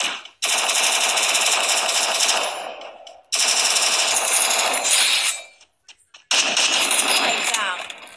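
Automatic turret fire in the shooter game Free Fire comes in three long, loud, rapid bursts with short silent gaps between them.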